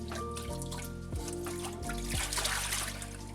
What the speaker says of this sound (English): add 1 cup of yellow or orange lentils in a sieve and 1 tablespoon of rice, then rinse them until the water runs clear